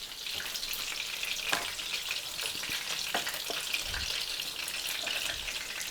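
Meatballs simmering in tomato sauce in a pot give a steady, close sizzling bubble throughout, with a few soft clinks and stirring sounds, no talking.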